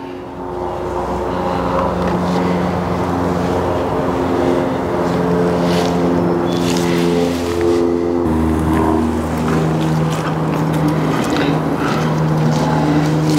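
A Luba robotic lawn mower drives outdoors, giving off a steady mechanical whine and hum with shifting motor tones. It is close and continuous, with no speech.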